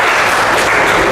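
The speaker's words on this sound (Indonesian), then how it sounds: "Tepuk tangan dulu untuk kelompok 3." Applause for a classroom group during a history teaching practice session, a steady dense wash of clapping filling the whole short moment.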